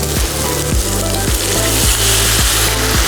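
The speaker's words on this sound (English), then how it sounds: "you want to hear a sizzle when you add the wine" White wine hits a hot pan for a carbonara risotto, giving a loud, continuous hissing sizzle with periodic scraping knocks from stirring.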